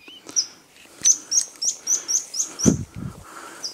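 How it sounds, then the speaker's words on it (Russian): A bird sings in a forest, a run of about eight short, bright chirps repeating at a steady pace, fairly close, with a couple of low thumps near the end. "Птичка поет."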